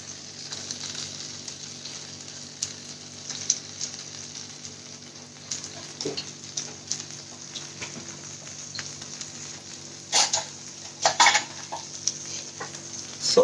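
Paneer on skewers cooking in a pan on a home stove gives a faint, steady sizzle, broken by a few sharp clinks of utensils.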